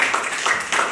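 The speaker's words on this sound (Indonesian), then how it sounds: "Oke, tepuk tangan untuk dia sekali lagi." A school class claps for a classmate, a short dense burst of hand clapping from a group in a room, fairly close and loud.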